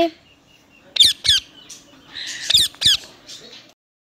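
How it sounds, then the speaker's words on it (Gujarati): A parrot gives a run of loud, harsh squawking calls close by, two sharp pairs of screeches with a rougher, noisier call between them, all alone without any talk. "આ છે પોપટ મીઠું મીઠું બોલે તે પોપટ"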